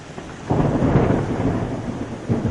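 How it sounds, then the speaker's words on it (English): A thunderstorm with heavy rain: a deep rumbling thunder roll swells up and lingers over a steady wash of downpour, loud and enveloping, with no voices. "the storm raged above us"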